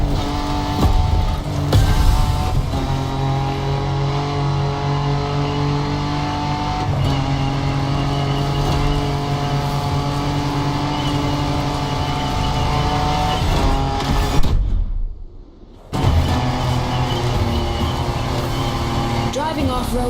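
Off-road race cars roar through the wild in The Crew Motorfest, loud engines revving and shifting continuously under a spoken voice, with a brief abrupt silence near the end before the engine noise resumes.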